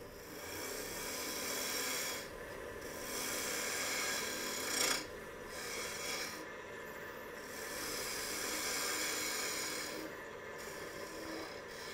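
Wood lathe turning a tenon on each end of a wooden lidded box blank, a steady close rasping scrape of the tool on spinning wood with brief pauses and a sharper scrape midway.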